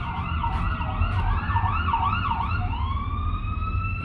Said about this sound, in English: There's some sirens.